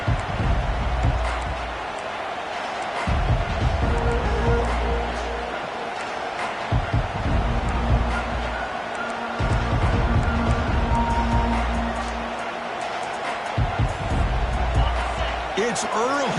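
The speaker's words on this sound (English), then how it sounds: "It's early, but this crowd is fired up. Listen to this noise here." Roaring stadium crowd at a college football game just after a kickoff with no return attempted, a loud continuous wash of cheering with sharp thumps and bursts rising and falling while an announcer talks over it.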